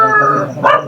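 A dog gives a short, tonal bark or yelp, drawn out for a moment and followed by a second quick burst, close and fairly loud.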